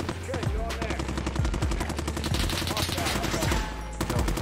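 Sustained suppressing gunfire in the military shooter game Squad, rapid repeated shots over a steady rumble of battle, loud and close, with a voice speaking over parts of it.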